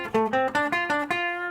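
Fender Jazzmaster Acoustasonic guitar on position 1 semi-clean tone, playing a run of about six plucked notes with rich harmonics, each ringing into the next, close and clear with no talk.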